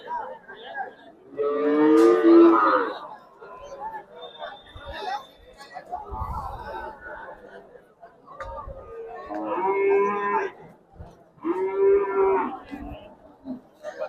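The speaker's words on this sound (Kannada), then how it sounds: "ಈ ಕಡೆ ಎಲ್ಲ ಎಮ್ಮೆ, ಆ ಸೈಡ್ ಹಸು ಇರುತ್ತೆ." Buffaloes moo loudly in several long, drawn-out calls, close by, at a cattle market in Chitradurga, India, with people chattering in the background between the calls.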